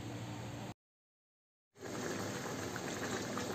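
Pieces of jackfruit boil in a pot of salted water, giving a steady bubbling hiss that cuts out for about a second and then resumes at the same level.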